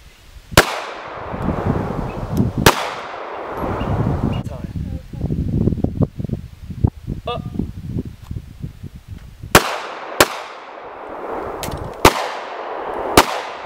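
Glock 43 pistol shots outdoors, sharp loud cracks with echoing tails, two early and then a rapid string of four near the end, with people talking in between.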